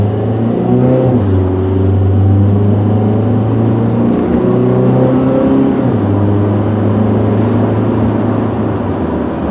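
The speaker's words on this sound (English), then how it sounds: "Listen to how quiet this car is." Car engine of a 1996 Honda Accord EX wagon hums steadily from inside the cabin, pitch climbing and then dropping as it shifts smoothly through gears, no talking.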